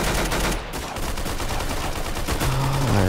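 Rapid, continuous gunfire in Roblox Arsenal, loud and close, with dense overlapping shots and a brief dip partway through.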